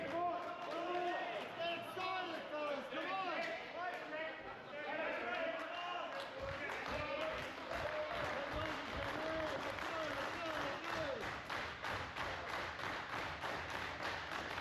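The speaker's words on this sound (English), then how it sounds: "Appreciative crowd here. Cheering on bowling of Werribee" Crowd applauding and cheering at an indoor cricket grand final for men over sixty, a steady, dense wash of clapping and voices sustained throughout, with commentary-style talk running underneath.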